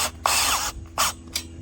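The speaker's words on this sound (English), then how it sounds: "drill and kind of like fasten it up" A power drill fastening a 10 millimeter bolt on a heavy-duty galvanized tunnel greenhouse frame, heard as close, loud whirring bursts, one long run followed by two shorter ones, with no talk.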